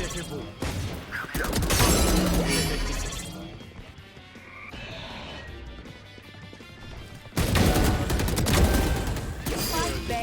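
Gunfire in the Valorant video game: loud bursts of rapid shots with sharp impact cracks, a quieter lull in the middle, then another heavy volley, while a player talks over the action.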